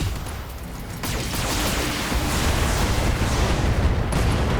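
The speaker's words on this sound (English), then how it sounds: "AC-10 ammo explosion." A BattleTech autocannon AC-10 ammunition explosion in the video game, a dense, loud rumbling blast with crackling debris that swells and sustains for several seconds.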